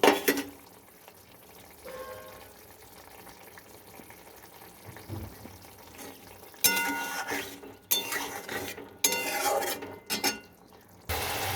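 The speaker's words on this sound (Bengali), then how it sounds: "এবার আমি এর ভেতর দিয়ে দিব ভেজে রাখা বেগুন আর আলু" Fried eggplant and potato added into a thin fish curry, giving soft clattering, scraping and splashing pot sounds, quiet at first then louder bursts of stirring and clinking later, near and without speech.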